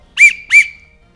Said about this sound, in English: We've included a whistle here for any third-party referee